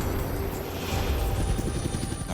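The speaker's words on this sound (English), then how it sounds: "Children's Mercy sent a helicopter to get Bri." A Children's Mercy medical helicopter flies overhead, its rotor throb a steady, moderately loud pulsing drone that holds for the whole stretch with no talk over it.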